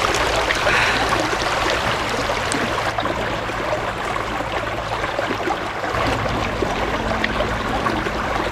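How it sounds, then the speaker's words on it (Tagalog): River water flows steadily under a bridge at a campsite, a loud continuous rushing and gurgling wash close by, with no talking. "napakaganda ng agos ng tubig dito"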